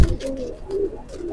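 Domestic pigeon, a Rampuri teddy hen, gives soft low cooing murmurs close by, a few drawn-out throaty notes in a row with no talk over them.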